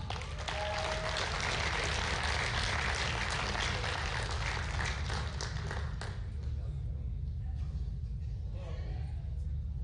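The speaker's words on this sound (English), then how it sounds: "Big round of applause, gold medal winner, Alex Gallant." An audience at a powerlifting national championship applauds a gold medal winner, giving a dense, roaring round of clapping that fills the hall for about six seconds and then fades into a low, rumbling room noise.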